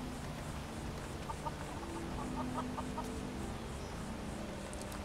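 A chicken in the Skyrim video game clucks in a short run of quick soft clucks, faint against a steady background hum of ambient noise, with no speech.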